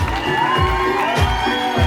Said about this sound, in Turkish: Bir alkış yok mu pasta için?